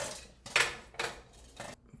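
A covered pot of popcorn kernels is shaken on the stove, giving three short bursts of rattling metal, close and fairly quiet, separated by brief pauses.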